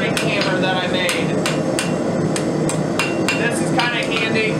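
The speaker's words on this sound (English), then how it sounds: "I'm using a little small barrier turning hammer that I made" A blacksmith forging a steak turner with a small lightweight homemade turning hammer under a pound, striking hot steel on the anvil in a steady, close series of about a dozen sharp metallic blows.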